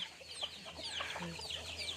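Backyard chickens raised for eating, a mix of young and older birds penned in a Thai village yard, cluck in short scattered bursts, with a voice talking over them.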